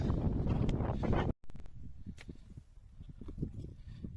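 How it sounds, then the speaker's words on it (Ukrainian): Strong gusting wind on a hilltop buffets the microphone in a loud low rumble, cut by a brief dropout, then continuing as steadier blustery noise. "Він на холмі знаходиться і тут дуже вітряно."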